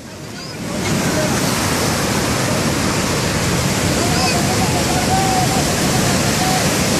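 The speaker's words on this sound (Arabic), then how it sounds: "اجت بس بياخذها النهر بياخذها النهر." Loud, steady rush of a river's water surging around a submerged 750 cc ATV, a dense broadband roar that swells in within the first second and then holds constant throughout.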